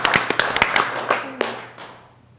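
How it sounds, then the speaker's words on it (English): A meeting audience applauds Cheryl with a short burst of scattered claps that quickly thins to a few isolated ones and fades out, with no talking. "want to applaud Cheryl."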